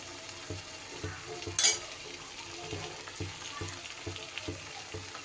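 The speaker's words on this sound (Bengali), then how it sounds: "দিয়ে এবার আবারও খুব ভালো করে সব কিছু কষিয়ে নিতে হবে" Spice masala frying in a pan on low heat with whipped yogurt, stirred with a spoon in steady repeated scrapes over a soft continuous sizzle, heard close and fairly quiet with no talking.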